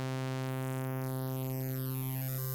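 Arturia DX-7 V software synth sounding a saw tone with operator feedback, a single sustained bright, buzzy note, heard alone.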